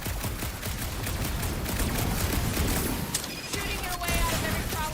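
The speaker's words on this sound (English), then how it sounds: "Shooting your way out of every problem again, Peter?" Sustained gunfire in the Guardians of the Galaxy video game, a dense continuous barrage of shots mixed with game sounds and a voice speaking over it.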